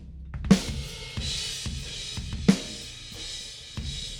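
Roomy acoustic drum hits with ringing cymbal wash, two heavy strikes about two seconds apart over a steady, reverberant kit groove.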